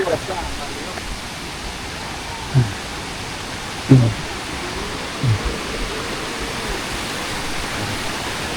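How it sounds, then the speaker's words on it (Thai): Steady rushing water of the Tad Kuang Si waterfall near Luang Prabang, Laos, roars in the background, with a few brief low thumps and faint voices breaking through now and then. "ได้ยินแต่เสียงน้ำนะบ้านนี้"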